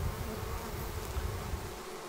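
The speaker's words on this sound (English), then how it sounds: "I'm just kind of showing you what the behavior is of the bees that are still down in the net." Honey bees still down in a swarm net buzz in a dense, continuous drone, close and steady with no voices over it.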